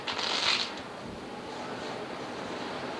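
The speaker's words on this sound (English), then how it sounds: "I'm going to shuffle the cards once this way" A deck of playing cards is shuffled once at close range, a quick riffling burst at the start that fades into quiet room noise.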